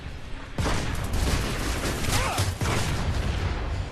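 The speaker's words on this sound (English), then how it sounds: "Stop shooting at me." Gunfire in the video game Planetside 2 on PS4: a dense, continuous barrage of shots and impacts that stays loud and close throughout, with a short lull partway, and no talk.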